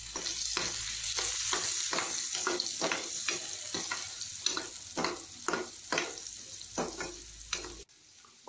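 Chopped onions frying with turmeric in a pan for stuffed bitter gourd, a steady close sizzle broken by repeated stirring scrapes and clatters, loud and continuous, ending abruptly.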